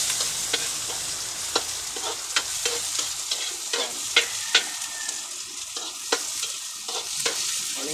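Onions fry in a pan with a steady sizzle, and sharp scraping clicks of a utensil stirring against the pan land at irregular intervals, close and fairly loud with no talking.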